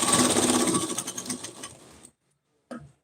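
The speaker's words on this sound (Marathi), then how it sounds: "आणि याच्यावर शिलाई करून घ्यायची." A sewing machine stitches piping onto a blouse neckline, a fast close mechanical whir that slows and stops after about two seconds, followed by silence and a brief clunk.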